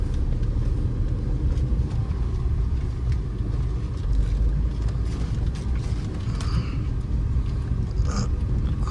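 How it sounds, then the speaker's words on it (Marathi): A car drives slowly along a road near a lake, its steady low engine rumble and road noise heard from inside the vehicle for the whole stretch. "गाडी जाते तिथे. Slow slow."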